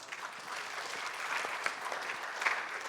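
Audience applause at an AI business panel, a continuous dense patter of clapping from a crowd with a couple of sharper individual claps standing out, moderately distant and brief.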